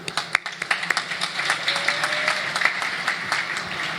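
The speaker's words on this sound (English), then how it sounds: "please join me in applauding all of you" Dinner guests at a community gathering applaud in a hall, starting with a few scattered sharp claps that quickly swell into a continuous moderate round of clapping.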